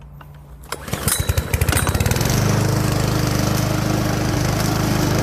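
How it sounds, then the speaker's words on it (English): A newly assembled petrol lawn mower is pull-started, sputtering through rapid firing pulses before catching into a loud, steady engine drone close by, heard alone. "Okay, the mower is assembled, so let's go give it a go, see what it's like."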